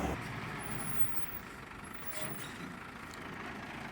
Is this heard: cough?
no